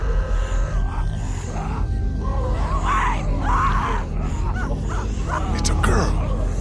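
A girl screams and cries out in The Walking Dead game, rising in distressed bursts amid groans, tense ambience and characters talking over it.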